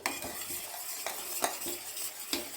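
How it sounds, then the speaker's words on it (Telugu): Sugar syrup for sakkare achchu being stirred in a pan, repeated scraping strokes of a utensil against metal at a steady rhythm over a soft hiss, no talk. "దీన్ని బాగా కలిపెట్టాలి."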